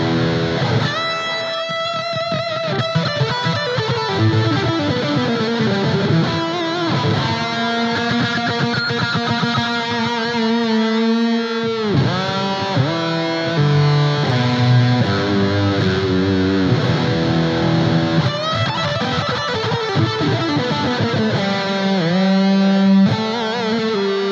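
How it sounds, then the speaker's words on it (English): Electric guitar played through a Blackstar ID Core V3 amp on a hot-rodded overdrive setting with delay and plate reverb, a sustained lead solo with smooth distorted notes and echo tails, loud and continuous. "The next one, which lives on the OD1 voice, is what they describe as a hot-rodded overdrive."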